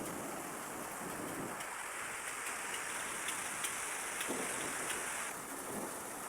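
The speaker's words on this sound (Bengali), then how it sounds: "এই আমি পয়লা দেখতেছি এত পরিমাণে বৃষ্টি হইতেছে" Heavy rain pours down in Saudi Arabia, a dense, steady hiss of water that stays even and loud throughout, with no voices over it.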